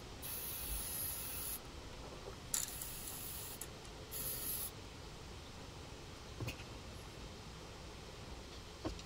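Finish coat sprayed onto a guitar body, heard as a steady faint hiss with a few short bursts of sharper spraying over quiet background noise.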